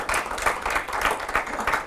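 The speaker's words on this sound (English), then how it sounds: "And you're clapping like you're all going on holiday" An audience claps in a modest, uneven patter of hands, several people close by with rhythmic pulses of clapping and no voices over it.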